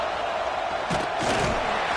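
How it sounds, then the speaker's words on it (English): A stadium crowd in the College Football 26 video game roars in a broad, sustained swell, with a few louder surges of shouting near the middle. "The roar of the crowd trying to fuel this defense to keep them pinned in their own end"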